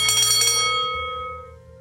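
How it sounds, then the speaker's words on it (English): A ship's internal phone bell on an ocean liner rings shrill and bright, a short metallic trill that stops and leaves a ringing tone slowly fading under a low machine hum. "That bell had to be shrill, otherwise you wouldn't hear it over the noise of the machines."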